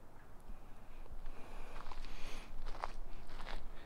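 Footsteps cross the top of a 1000-gallon monolithic precast concrete septic tank, a series of soft, close thuds over a steady background rumble, with no talking.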